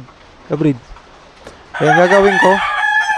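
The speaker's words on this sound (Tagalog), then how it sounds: "Kasi may mga alaga pa tayong manok dyan, oh, sa baba." Backyard chickens kept below a banana tree during heavy rain; a rooster crows loudly and up close for over a second, with brief clucks just before it and someone talking over the start.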